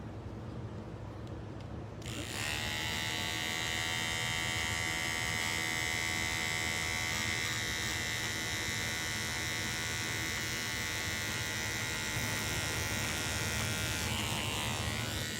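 Electric seam ripper running steadily to take apart stitches in fabric, a continuous close buzzing whine that starts abruptly after a brief quiet moment and holds at an even level.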